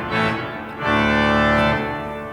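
A pipe organ in Austria, formerly the country's largest, sounds a Dulciana stop together with an 8-foot trumpet reed. Two sustained, rich, reedy chords fill a reverberant space, the second entering after a brief swell, with no voices.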